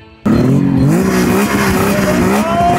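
Race car engine revving hard at a racing event, a loud, close, sustained roar with harmonics that rise and fall as the throttle is blipped, starting abruptly after a short quiet moment.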